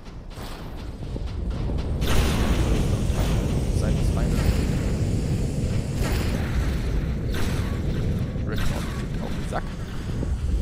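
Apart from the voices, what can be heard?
space battle and ship explosion in Star Ruler 2 video game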